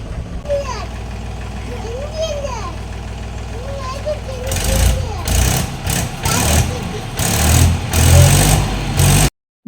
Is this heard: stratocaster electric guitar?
no